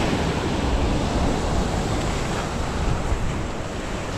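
Sea waves wash against a rocky shore during bait fishing, a continuous loud roar of surf mixed with wind buffeting the microphone, with no voices.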